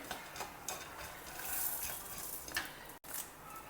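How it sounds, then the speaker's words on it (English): Green chillies, tamarind and curry leaves stirred in a hot pan, with soft scraping strokes over a gentle sizzle, quiet and close, with no talking. "Stir everything well together."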